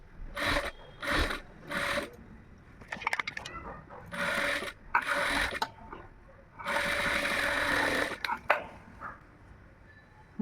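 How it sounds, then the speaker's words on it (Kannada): A sewing machine stitches a blouse lining in several short close bursts of rapid whirring, separated by pauses, with fabric handling and someone talking between runs. "ಈಗ ಇದನ್ನು ಒಂದು ಅರ್ಧ ಇಂಚಷ್ಟು ಸ್ಟಿಚ್ ಮಾಡ್ಕೊತಾ ಹೋಗಬೇಕು."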